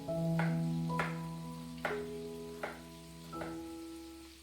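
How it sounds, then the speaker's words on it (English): Meatballs brown in pork fat in a frying pan, giving a soft, steady sizzle with a few faint clinks over a low hum, and no voices. "I'm just browning off those meatballs in some pork fat in a frying pan"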